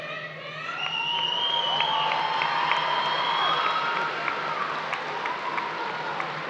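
At a high school commencement ceremony, an audience cheers and applauds in a sustained, full roar with shouts and whoops rising above the clapping.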